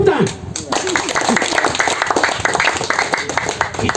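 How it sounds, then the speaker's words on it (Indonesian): A crowd at an Indonesian political rally breaks into sustained, dense applause, loud and close, with voices calling out and shouting over the clapping throughout. "Tepuk tangan lagi."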